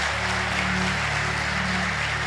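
Congregation in church giving applause, a steady, even wash of clapping with a low sustained organ or keyboard tone running underneath throughout.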